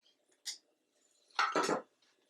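A bench scraper or knife cuts biscuit dough on a work surface, giving a single short click followed by a louder, scraping double knock, close by in a quiet room.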